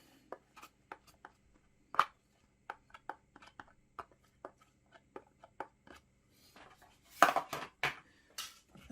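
A spoon taps and scrapes against a mixing bowl while lemon zest is worked into a wet cake mix, with sparse irregular clinks that grow into a busier flurry of scraping near the end.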